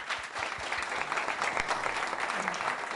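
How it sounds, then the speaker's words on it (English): Applause rises from the audience at a global financial regulatory conference in Hong Kong, a dense, even roar of many people clapping together that holds steady throughout. "A big round of applause for the two gentlemen."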